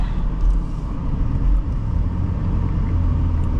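Inside a 2009 Nissan Quest 3.5 S minivan on the road, a steady low engine and tyre rumble fills the cabin, loud and even with brief swells.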